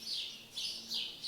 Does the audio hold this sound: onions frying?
no